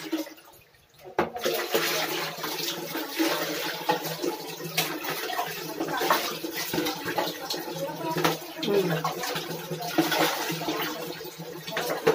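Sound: water poured for rinsing while washing

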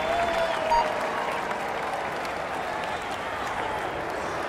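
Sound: crowd applause in Tour de France 2017 video game

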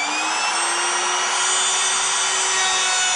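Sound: router cutting a mortise in wood with a jig

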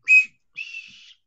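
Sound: whistle blown

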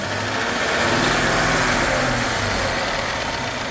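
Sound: Mercedes-Benz S500 engine idling roughly, faulty

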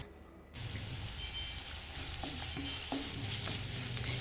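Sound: stirring pasta with garam masala in a pan

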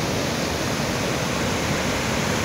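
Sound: Upper Duden waterfall in Turkey

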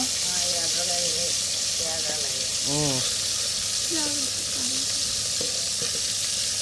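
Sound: frying fish in oil

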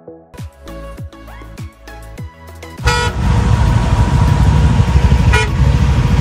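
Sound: heavy road traffic with honking horns

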